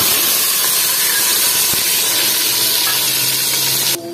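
A paste of onion, garlic, ginger, tomato and chili hits hot oil with a loud, close, hissing sizzle that holds steady and then suddenly drops away near the end.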